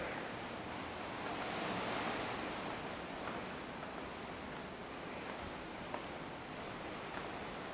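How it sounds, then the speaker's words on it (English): Steady broadband wind rushes and buffets continuously, loud and close, at the Rongotai pedestrian tunnel beneath an active airport runway, with slight gusting swells and no talking. "This is a very windy area."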